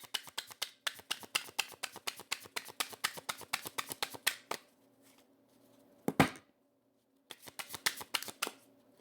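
Rapid, crisp riffling of tarot cards repeats in quick bursts, pauses, a single louder flutter, then more brisk shuffling, close up.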